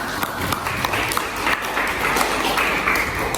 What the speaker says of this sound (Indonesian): Yang tepuk tangan kita semua, kita hebat ya